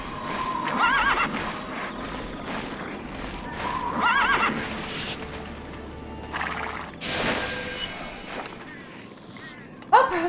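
Horse whinnies and clip-clopping hooves from the video game Tera, repeated neighing calls over a steady hoof rhythm with a busy game soundscape, a voice talking in places.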